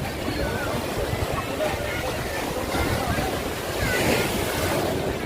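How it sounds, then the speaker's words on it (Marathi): Rough sea waves surge and wash continuously at Alibag beach in Maharashtra under a weather high alert, a steady roar of surf mixed with wind buffeting the microphone, with a swell in the crashing toward the end. "मित्रो तुम्ही पाहू शकताय की समुद्र खवळलेला आहे"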